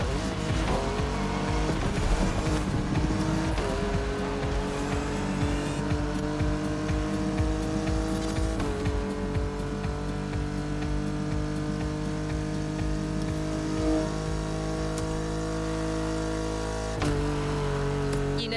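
Race cars tear over asphalt in The Crew Motorfest, with a constant loud roar of high-revving engines, shifting pitches and occasional tire squeal, dense and continuous throughout.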